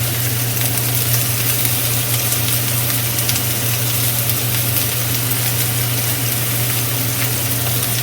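Butter sizzles and spits as it fries with marbled beef in a hot pan, giving a steady, dense crackle that stays close and even throughout with no pauses.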